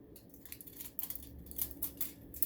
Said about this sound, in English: Or actually I'll cut an oval.